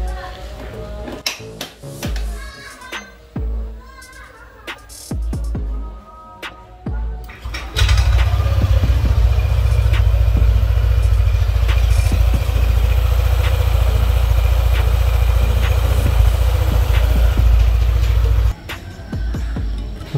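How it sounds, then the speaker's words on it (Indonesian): A Yamaha Aerox 155 scooter engine is test-started with its CVT cover removed and a KVB carburettor-type Vario CVT spring fitted. Clattering workshop handling comes first, then the engine catches and idles loudly and steadily for about ten seconds before cutting off. "kita tes nyalakan dulu ya sebelum kita pasang tutup CVT-nya"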